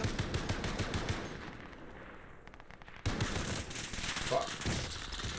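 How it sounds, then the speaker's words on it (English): Rapid bursts of automatic gunfire in a first-person shooter game, rattling in dense volleys. The firing thins out partway through, then resumes in sharp, loud bursts. "Keep shooting at him."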